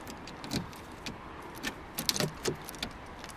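Keys jangle and clink in several short bursts near a car that won't unlock, with small metallic rattles and handling noises close by and no voices.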